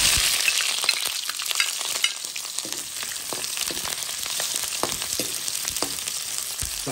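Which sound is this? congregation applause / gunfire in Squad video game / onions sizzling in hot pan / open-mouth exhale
onions sizzling in hot pan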